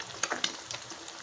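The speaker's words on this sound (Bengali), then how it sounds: "এখন ডিমটাকে আমি ভেজে নেবো পেঁয়াজের সঙ্গে একসঙ্গে" Eggs and onion fry together in a wok, a soft sizzle broken by a few quick scraping stirs, fairly faint and close.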